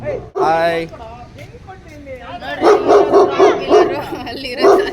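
A German Shepherd barks loudly and close by in a quick run of repeated barks, with people talking around it.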